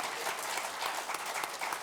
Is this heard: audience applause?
yes